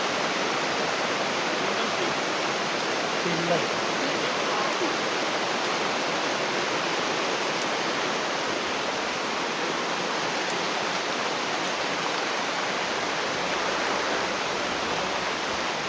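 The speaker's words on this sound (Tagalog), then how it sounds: "Ulan jod." Heavy rain pours steadily and loudly throughout, a dense unbroken roar with no clear pauses.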